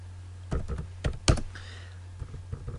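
Keys pressed on a computer keyboard while entering AutoCAD commands, a few separate close taps and clicks spread over about three seconds, fairly quiet against a steady hum.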